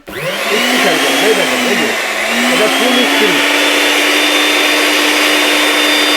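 A high-speed mixer grinder runs loud and steady, a continuous motor whine with a wavering pitch in the first few seconds before settling into an even drone.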